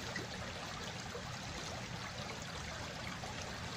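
Steady broadband rush of a stream flowing, water trickling and burbling continuously at an even level with no pauses, fairly close and unaccompanied by voices.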